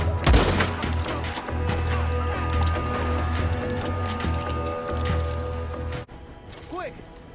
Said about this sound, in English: Kid, I'll take the shot.